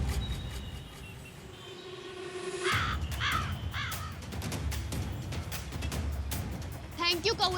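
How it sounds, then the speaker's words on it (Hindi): A crow caws several times in harsh, short calls at moderate distance, mixed with outdoor background noise and someone speaking over part of it. "अरे ओ कौवे,"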